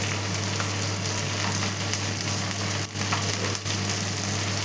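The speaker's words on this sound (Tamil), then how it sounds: "இப்போது இதை ஒரு 5 நிமிஷம் நல்லா வதக்கி விட்டுக்கலாம்." Sliced onions with salt frying in a pan for masala kulambu, a steady close sizzle with a low hum beneath and a couple of brief pauses.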